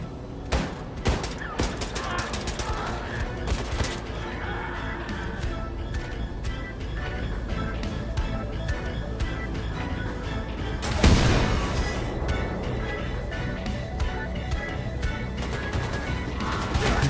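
Gunfire in Wolfenstein II: The New Colossus, with rapid loud shots clustered at the start and a heavy blast around eleven seconds, then sustained busy combat noise throughout.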